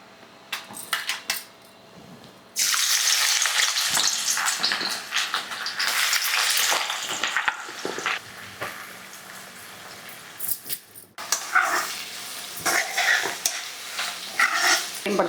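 Onions drop into a hot pan and burst into a loud, crackling sizzle after a quiet start, with clattering stirs and metal scrapes, a short lull, then sizzling again.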